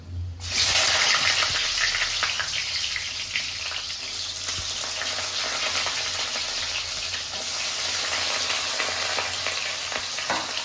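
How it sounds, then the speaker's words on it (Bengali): Chopped onions dropped into hot oil in a home kitchen, cooking for a chicken dish, burst into a loud sizzle that settles into steady crackling frying, close up with no talking. "তেল গরম হয়ে গেছে, দিয়ে দিচ্ছি কুচানো পেঁয়াজগুলো।"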